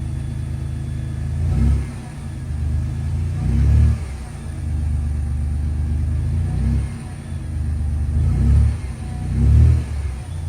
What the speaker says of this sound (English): it gives you that TRD catback exhaust, as we can see there